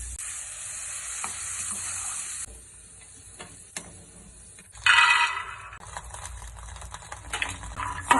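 A snack fries in hot oil over high gas, crackling and sizzling close by with stirring scrapes, quieter in the middle and flaring loud again partway through.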